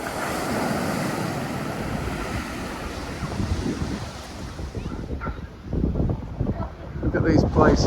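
Waves at a beach rumble and wash in over heavy wind buffeting the microphone, loud and continuous, with people talking over the surf in the later part.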